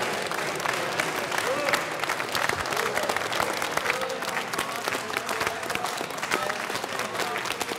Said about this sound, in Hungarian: Ez a fasiszta taps kell magának?